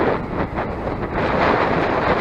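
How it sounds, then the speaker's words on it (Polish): Strong headwind roars steadily across the microphone of a cyclist on a road, a dense, loud rushing buffet with no voices. "Wiatr w twarz bardzo mocny."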